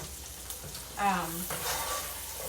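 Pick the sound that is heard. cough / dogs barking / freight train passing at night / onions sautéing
onions sautéing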